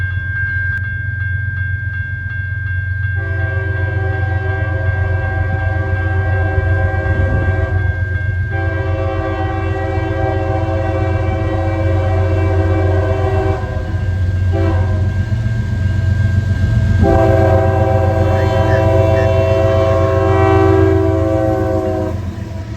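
A freight train led by a single GE Evolution locomotive rumbles past loudly, its multi-tone horn blaring in several long blasts over the steady heavy roar of the engine and rolling cars.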